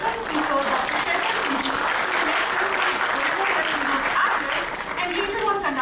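A workshop audience gives a steady round of applause to welcome a guest speaker, dense clapping continuing evenly with a voice sounding over it.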